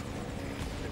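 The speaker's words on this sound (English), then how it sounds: "the chopper is gonna come back" In the Metal Gear Solid V video game, a helicopter makes a continuous chopping rotor drone with a dense engine roar. It is loud and steady from start to finish.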